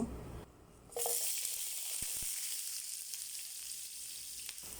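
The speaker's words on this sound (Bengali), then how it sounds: "একটা কড়াই তেল বসাই নিয়েছি সেটার ভিতরে আমি পেঁয়াজ কুচি দিয়ে দেব" Chopped onion drops into hot oil in a wok and breaks into a sudden, continuous sizzling hiss that holds steady, fairly soft, with a couple of faint clicks and no speech.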